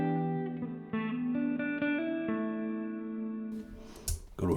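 Electric guitar played through a Donner Yellow Fall 2 reverb pedal on its hall setting, a run of picked notes ringing into a long, smooth wash of sustain that fades before some handling noise at the end.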